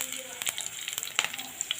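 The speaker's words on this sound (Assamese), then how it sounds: "সৰিয়হখিনি ফুটিবলৈ আৰম্ভ কৰিছে" Mustard seeds splutter and pop in hot oil in a pan while cooking a vegetarian dish, a faint steady sizzle broken by scattered sharp little crackles.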